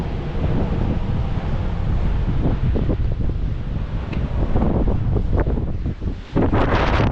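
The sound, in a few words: ocean waves crashing against cliffs, with wind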